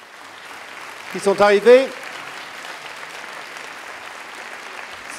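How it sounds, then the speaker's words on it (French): Soft, steady applause from a lecture audience in a Paris science center welcoming guests, faint and continuous, with someone speaking briefly over it. "Peut-être quelques applaudissements pour tous nos invités très prestigieux"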